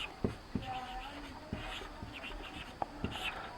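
Pen writing out a Class 10 fraction math solution, close scratchy strokes with several sharp taps as letters and symbols are formed, with faint background hiss and no clear speech.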